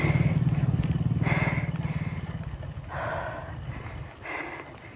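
A motorcycle engine drones nearby on a steep uphill road during a bicycle ride in Sambong, loud at first then fading as it passes, with rough pulsing and wind noise.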